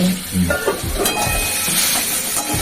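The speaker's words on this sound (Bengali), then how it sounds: "একটু ভাজা ভাজা করি না হ্যাঁ?" Potato greens frying in hot oil for a Bengali chachchari, with steady close sizzling and repeated scraping stir strokes and a few light utensil clinks throughout.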